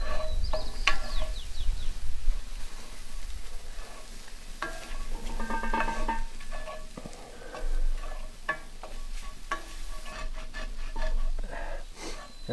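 Onions and shallot, salted, sizzle and fry in a pan for venison stroganoff, a steady crackling hiss with occasional stirring scrapes and clinks throughout, no talking.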